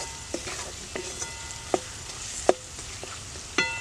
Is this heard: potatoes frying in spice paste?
yes